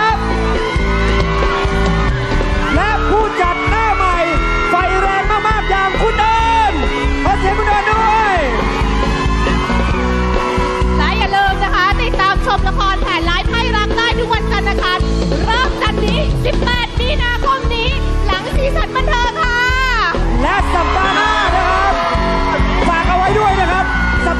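A television studio audience screams and cheers loudly for drama actors, the shrill roar continuous throughout and mixed with music and shouting voices.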